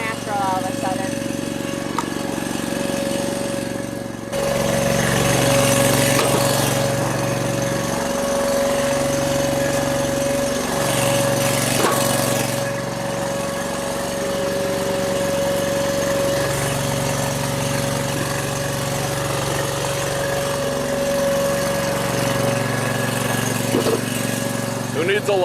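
An engine-driven 8-way wood splitter runs steadily in a driveway, its small engine droning with a constant whine while the hydraulic ram bogs and cycles and split logs clatter. People talk over the noise.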